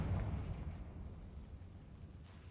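A Confringo spell explosion in the Hogwarts Legacy video game, heard as a loud, low rumbling blast at the start that fades into a lingering roar.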